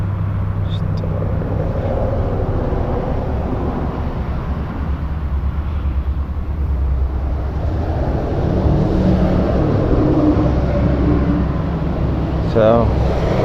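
A 2006 Ford Taurus with a 3.0 engine starts after a jump and settles into a steady, low idle rumble, heard up close and continuous throughout.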